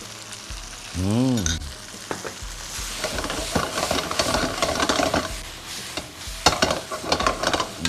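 Crispy pork stir-fried with green curry paste and coconut milk sizzles loudly while a spatula scrapes and clatters against the pan in quick irregular strokes, with a short whooshing burst near the start.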